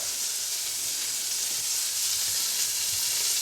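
Veal pieces browning in butter in a pan for a blanquette de veau, giving a steady, bright, close sizzle with a constant frying hiss and no talking.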